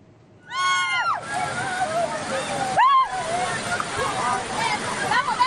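The Matanga River overflows into a residential village in Polewali Mandar, West Sulawesi, as a continuous rush of floodwater under people's voices and sharp calls or whistles.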